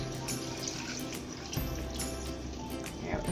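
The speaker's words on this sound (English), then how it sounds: "I'm going to go ahead and add enough water to cover." Tap water runs steadily into a pot of vegetables for homemade broth, a soft, constant rushing stream that stays close and fairly quiet.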